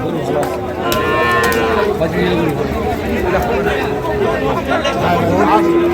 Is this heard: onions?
no